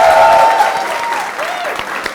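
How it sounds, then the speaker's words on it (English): A studio audience at a town hall event with Sunny Leone gives a big round of applause, loud and dense at first then thinning out over about two seconds, with a voice and some tonal sound over the clapping. "Guys, can we give her one more massive round of applause,"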